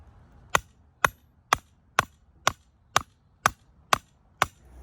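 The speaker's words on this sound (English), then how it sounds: "All of these pins are hitting concrete" Metal probe pins strike a buried concrete septic tank under dead grass. Nine sharp, evenly spaced knocks sound about half a second apart, close and distinct against a quiet background.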